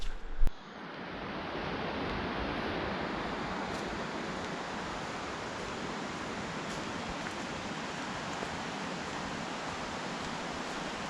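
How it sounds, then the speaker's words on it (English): Steady broadband rushing water roars continuously, like a waterfall some distance off, at Grogan Creek Falls in North Carolina, after a brief knock at the start. "It's starting to get noisy. I think I'm getting close to Grogan Creek Falls."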